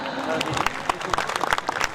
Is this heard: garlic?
no